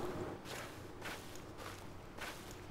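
Running footsteps cross a field in Slender: The Arrival, four evenly spaced soft thuds with a grassy swish, close and moderately loud over a low, steady ambient drone.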